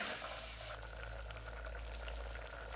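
A curd curry of raw banana and elephant yam simmers in a clay pot, producing a faint, steady low bubbling without voices.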